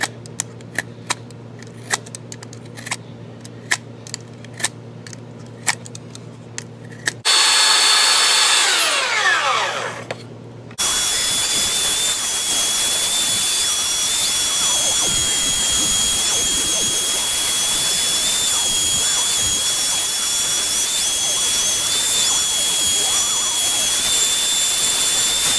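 A power sander shapes a scrap of 2x4 wood into a fish, preceded by a run of sharp ticking taps; the sander then runs loud and continuous with a high whine, grinding steadily against the wood.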